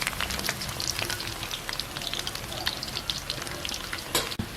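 Navaratri snacks fry in hot oil in a pan, giving a steady, close, continuous sizzle and crackle with no pauses.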